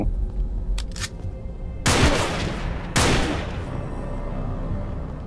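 Two loud, sharp gunshots in Minecraft about a second apart, each with a short echoing tail, over a low constant background hum.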